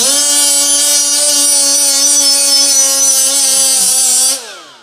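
A Milwaukee M12 die grinder screams at high speed around 24,500 RPM with a steady, loud, piercing whine held for about four seconds before it winds down as power cuts.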